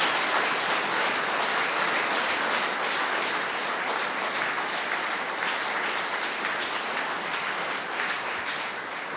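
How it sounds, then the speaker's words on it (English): Sustained applause from guests at a formal state banquet for the French president's visit, following a royal toast; a steady, dense wash of clapping throughout, fairly distant and even, with no clear talk. "An outbreak of applause as everyone then rejoins their positions"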